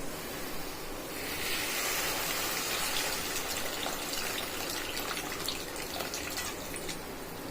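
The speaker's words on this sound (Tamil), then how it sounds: "அதனால அப்படியே புளி ஊத்திடலாம்" Tamarind water poured into an eggplant curry, making a steady close gushing and trickling sound that swells after the first second and runs on continuously with no voices.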